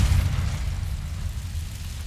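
A Confringo fire-blast spell erupts in Hogwarts Legacy as a heavy, low boom that hits hardest at the start, then rumbles on and slowly fades for about two seconds.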